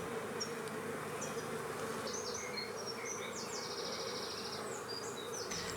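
Honeybees buzzing steadily around a hive during a beekeeping session, a continuous insect drone with birds chirping faintly in the background.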